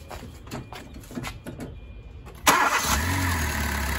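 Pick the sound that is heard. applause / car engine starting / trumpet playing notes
car engine starting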